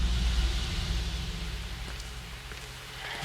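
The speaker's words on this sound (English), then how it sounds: "This rain, it's finally happening." Rain in the video game Wuthering Waves pours down as a dense, even wash of hiss with a low rumbling undertone, steady and fairly loud across the short stretch with no voices.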